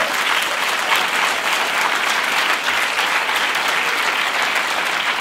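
Audience applause at a French comedy show: steady, dense clapping from a large crowd, sustained and even throughout, without voices standing out.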